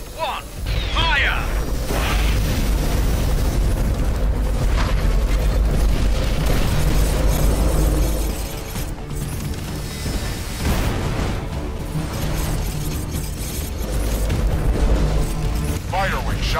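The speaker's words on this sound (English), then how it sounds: "3, 2, 1, fire!" Heavy, booming cannon blasts from a frostbite weapon in the strategy game X-Morph, rolling continuously through loud low-end rumble with bursts and mechanical clatter, under a voice counting down.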